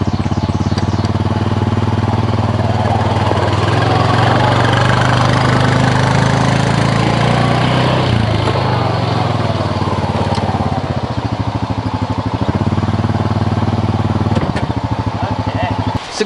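A Honda Pioneer 500 side-by-side runs in four-wheel drive with its factory open front differential, a steady, loud, close engine drone with a low rumble that holds throughout and rises slightly near the end.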